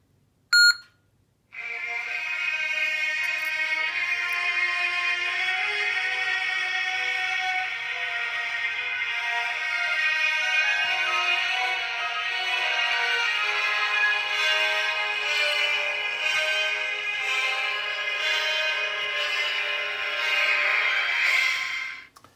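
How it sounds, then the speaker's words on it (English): Lightsaber sound font boot-up on a commissioned cross-guard saber: a short beep, then a sustained, loud electronic tonal melody that holds steady for about twenty seconds and cuts off abruptly. "push and hold the auxiliary button until it beeps, and then you'll hear the next sound"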